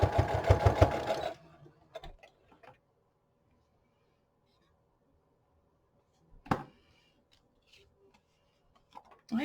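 A sewing machine stitches an embroidered flower onto a junk journal in a short rapid burst of needle clatter at the start, followed by near silence with a few faint clicks and a brief rustle of handling.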